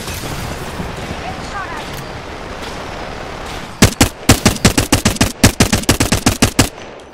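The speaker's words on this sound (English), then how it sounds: "Stand back, knuckle cluster's firing." Knuckle cluster launcher firing in a squad shooter video game, a loud, fast burst of rhythmic gunshot blasts that starts abruptly after a stretch of ambient battlefield noise.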